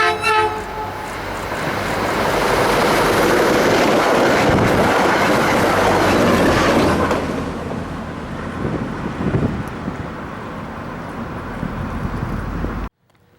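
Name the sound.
Springfield-bound CT Rail train 4406 passing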